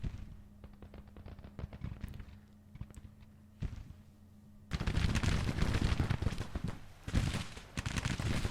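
Artillery and musket fire in the Civil War battle game Grand Tactician: The Civil War: scattered sharp cracks of distant musketry over a low drone, then a louder, dense wall of gunfire and booming cannon that rolls on continuously.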